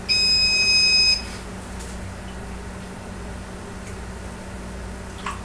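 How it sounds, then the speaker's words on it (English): A kitchen timer beeps loudly in a rapid electronic burst for about a second while lasagna noodles are being prepared, then cuts off, leaving a low steady room hum. "Is my timer going on?"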